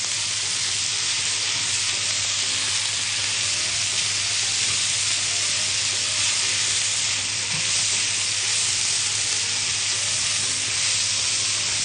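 Meat fries with onion, garlic and spices for a potted tajine, giving a loud, dense sizzle close up with steady stirring and no break throughout.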